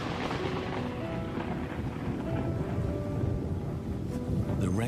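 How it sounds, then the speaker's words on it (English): A rainstorm sweeps over lion country, heavy steady rain hissing throughout with a deep, continuous roll of thunder rumbling underneath. "The rainstorm brings healing and relief to the land and the lions."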